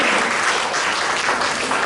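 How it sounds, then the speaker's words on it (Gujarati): Audience applause welcoming Meeraben, a prize-winning writer, at a Gujarati readers' forum award ceremony in Surat; steady, dense clapping from a crowd fills the whole stretch with no voices over it. "પુષ્કળ લખ્યું છે એવા મીરાબેનને તાળીઓથી વધાવી દઈએ"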